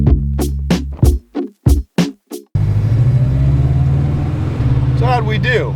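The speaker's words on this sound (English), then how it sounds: "Swapped out the cap and rotor and the truck fired right off" The engine of a bagged, body-dropped Mitsubishi Mighty Max minitruck fires up after a cap and rotor swap and settles into a steady, low, rumbling idle, close by. Short choppy sounds come just before it catches.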